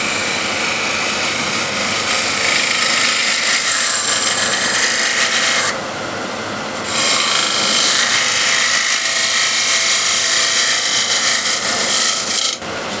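A gouge cuts a wooden bowl turning on a wood lathe, a loud continuous rasping scrape with a brief softer dip midway, close up and with no voices.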